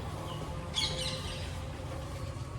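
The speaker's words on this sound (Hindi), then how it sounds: "यहाँ पे पक्षियों की चहचहाहट आपको सुबह शाम सुनाई देगी" A brief burst of bird chirps rises faintly outside a south Delhi flat, heard once against a quiet, humming indoor background.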